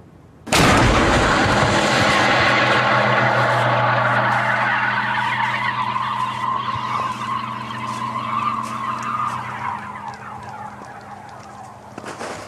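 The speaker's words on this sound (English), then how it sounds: "An explosion in the base of the cannon creates a single pulse of air the shape of a donut" A vortex cannon fires with an explosive burst in its base, a sudden loud blast that rolls into a long, fading rushing roar with a lingering hum.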